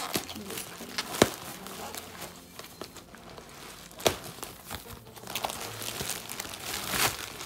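A package being cut and torn open at home: close crinkling and rustling of plastic wrapping with several sharp crackling snaps and scrapes, irregular and fairly quiet.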